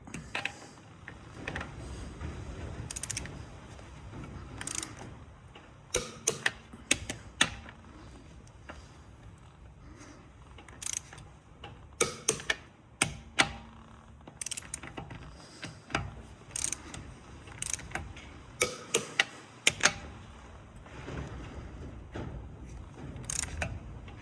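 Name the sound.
torque wrench clicking on Honda Jazz drop link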